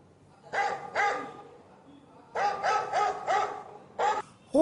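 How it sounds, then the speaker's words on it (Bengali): A dog barks in front of a car in a staged drama scene, two sharp barks followed after a pause by a rapid run of four or five barks and two more, fairly close and loud. "কুকুরটা এসে গাড়ির সামনে ঘেউ ঘেউ করতে লাগলো।"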